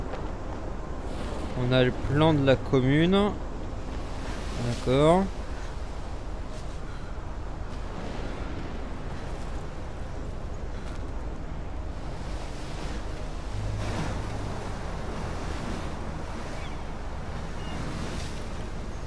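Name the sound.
storm wind and waves in video game Life is Strange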